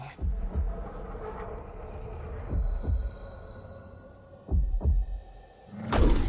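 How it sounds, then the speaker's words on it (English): A deep, slow heartbeat pulses in Dragon Age Veilguard, heavy paired thumps spaced a couple of seconds apart over a low ambient hum, ending in a brighter swell. "Yep, that's a heartbeat."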